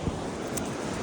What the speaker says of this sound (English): This is the waterfall in question.